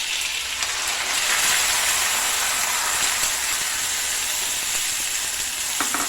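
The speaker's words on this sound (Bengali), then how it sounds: "গরম ঘিয়ে প্রথমে ফোড়ন দিলে হচ্ছে দারচিনি, লবঙ্গ, এলাচ, তারপরে যে বাটা করা যে পেঁয়াজ, রসুন, আদা, কাঁচা লঙ্কা ওটা দিয়ে দিলে পুরোটা?" A paste of onion, garlic, ginger and green chilli fries in hot ghee after cinnamon, cloves and cardamom were tempered for a chicken dish. A loud, continuous sizzle hisses close by with no speech.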